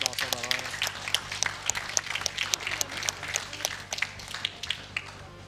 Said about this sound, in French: je veux une grosse main d'applaudissement d'applaudissements pour Queen Anne